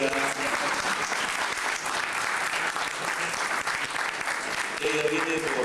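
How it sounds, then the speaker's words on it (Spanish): Strong, dense applause fills a hall at a journalism workshop as a speaker is welcomed, steady throughout, with voices rising faintly through the clapping near the end. "Vamos a recibir con fuertes aplausos a Zuliana Lainez"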